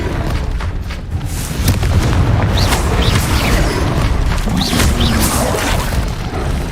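Confringo fire spell blasts in the Hogwarts Legacy video game, loud booming impacts with crackling bursts layered over a dense rumbling battle din, no talk.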